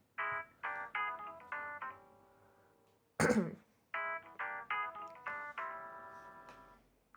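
A Samsung Galaxy J7 Neo ringtone plays a bluesy run of clean, bell-like electronic notes in two short phrases. A loud throat-clearing or cough cuts in between the phrases.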